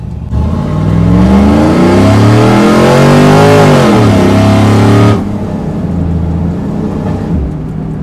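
Loud cammed street truck engine revving hard, the pitch climbing and sweeping up then dropping back before settling into a lower rumbling idle, heard close and alone.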